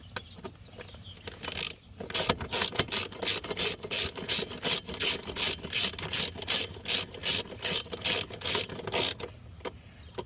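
A ratchet tightens a 10mm bolt holding a Porsche Cayenne battery in place. Close, crisp clicking bursts repeat in a quick, regular rhythm of about twenty strokes before it stops.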